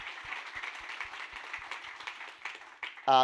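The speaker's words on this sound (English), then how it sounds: "a big round of applause to you and the whole group here" Audience applause after a final showcase presentation, a fairly faint, steady patter of many hands clapping across the whole stretch, ending as a voice starts.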